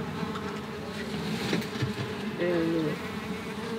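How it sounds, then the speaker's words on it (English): Japanese mason bees (Osmia cornifera) buzz in a steady, close drone that runs throughout, with a single brief spoken word partway through. "Osmia cornifera is a mason bee."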